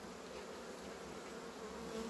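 Honeybees from a large overwintered colony buzz around a hive frame during an inspection, a steady dense drone close up that continues without pause and with no talking.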